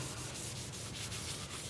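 A live-edge cherry-plum wooden bowl being sanded, a soft scratchy rubbing with rhythmic back-and-forth strokes, quiet and close.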